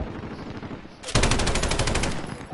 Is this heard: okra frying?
no